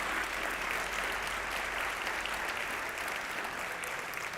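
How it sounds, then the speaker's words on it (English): Audience applause at the Mozilla Festival 2025 closing, honoring the festival's Wranglers: a dense, steady wash of many hands clapping, loud and unbroken throughout with no voices on top. "can we please give them a big round of applause to our Wranglers?"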